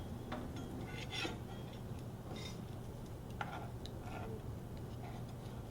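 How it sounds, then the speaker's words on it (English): A bacon and cheese mixture for warm bacon cheese dip is stirred in a bowl, with light clinking and ticking of a utensil against the dish, faint and irregular over a low background hum. "And then I'm going to mix this while Ramsey cuts the bacon up."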